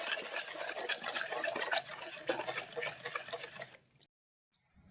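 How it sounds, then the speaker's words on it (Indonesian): Milk powder batter for martabak is stirred in a bowl, making a close, continuous liquid swishing and sloshing that stops abruptly near the end, leaving near silence. "Kemudian kita aduk-aduk. Kita aduk sampai seluruh bahan-bahan ini larut."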